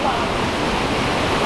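Water at Belawan waterfall in the Ijen area rushes in a loud, steady roar of broadband noise with no break.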